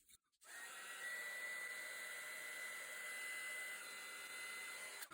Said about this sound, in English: And then let's hit it with our heat gun.